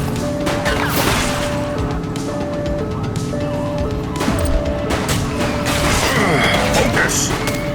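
Gunfire in the police video game The Precinct, with loud sharp shots and crashes over a busy mix of engine noise and game effects, shot after shot at an irregular pace.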